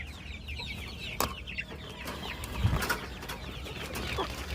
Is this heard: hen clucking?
yes